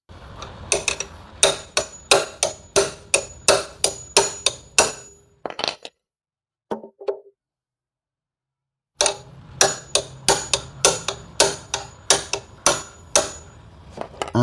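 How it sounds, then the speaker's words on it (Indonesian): HL hammer striking an HL ring wrench in a series of sharp metallic blows at an irregular pace, with a silent pause midway before the hits resume. "Saya mau coba pakai palu HL ya."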